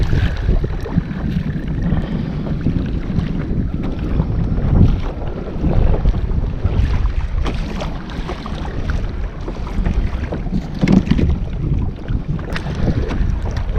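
Strong wind buffets the microphone on a Hobie saltwater kayak at sea off Matlacha, Florida, a steady loud roar with gusty surges and water sloshing against the hull throughout, no voices.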